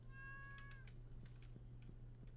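A cat meows in the Stardew Valley game: a few short, clear, high meows near the start, then softer repeated mews over a steady low game hum.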